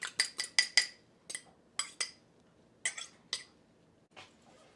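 Whisk or spoon clinking against a bowl while milk and eggs are mixed for meatballs, in short quick bursts of sharp clinks, then a few spaced taps, close and fairly quiet with no talk.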